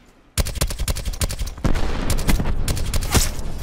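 Rapid, dense gunfire from long-range shots in the Black Ops 4 video game, a loud continuous burst of overlapping shots after a brief quiet start.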